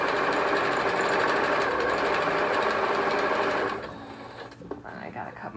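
A sewing machine stitches steadily past a hard seam on a home decor project, a loud close continuous whirring that stops abruptly near the end, leaving quieter room sound.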